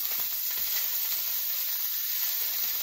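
Steak frying in oil in a pan gives off a steady, close, loud sizzle and hiss that holds even throughout, with no talking.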